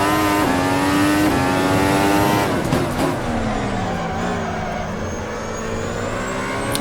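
Race car engine in a racing video game, loud and close, a rising rev that holds, then drops sharply on a downshift and slowly builds again with no talking over it.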